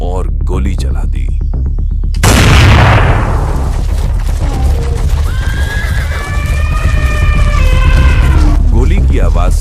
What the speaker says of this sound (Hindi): गोली की आवाज से जंगल गूंज उठा।